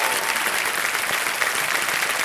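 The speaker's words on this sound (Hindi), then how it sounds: "जोरदार तालियां बज जाए अमन जी के लिए।" A studio audience on a quiz show claps loudly for contestant Aman Sahu, a dense, even roar of applause filling the whole stretch with no talking over it.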